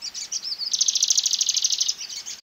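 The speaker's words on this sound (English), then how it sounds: "Compare that to this, I think this is a gray crested tit." A grey crested tit singing nearby: a few thin high notes, then a rapid bright trill of repeated notes lasting over a second, clear against a quiet background.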